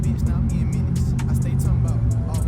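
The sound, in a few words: gasoline truck engine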